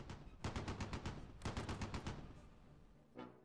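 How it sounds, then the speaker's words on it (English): Heavy machine guns in the Close Combat 3 war game fire two rapid bursts of evenly spaced shots, each lasting about a second, followed by a fading tail and one short final burst. "Heavy machine guns got them covered as well"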